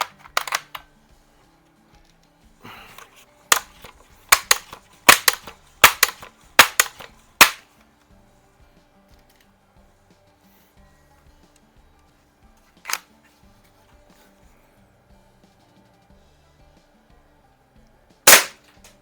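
A Barra model 900 pump-action pellet rifle plinking outdoors, with a burst of sharp, close clicks and snaps early on, then isolated crisp shots separated by long quiet gaps.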